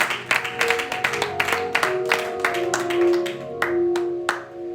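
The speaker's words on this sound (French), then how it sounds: "Si nous sommes dans la joie, acclamons très fort" A church congregation applauding, dense rapid hand clapping with sharp individual claps standing out over a steady crowd of hands and a faint sustained tone underneath.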